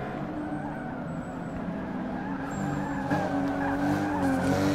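Touring race cars lapping Sebring in Forza Motorsport 6, with a Ford among them, give a steady loud engine drone layered with continuous tire squeal and skidding that swells slightly toward the end.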